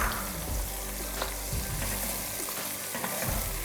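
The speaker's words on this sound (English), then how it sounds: "I'm just going to saute this for a while." Blended pepper, onion and crayfish sautéing in a pot for okra soup, a continuous close sizzle with soft stirring scrapes throughout, no talking.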